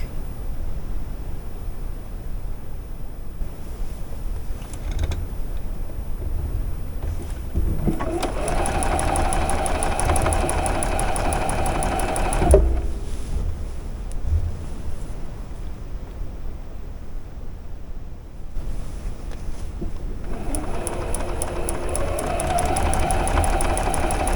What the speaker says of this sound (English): Alright, now I'm going to sew this one right here.